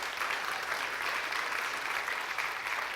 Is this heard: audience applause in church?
yes